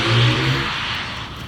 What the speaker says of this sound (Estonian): paras aeg tutvustada teile ka siis i5 launch controlli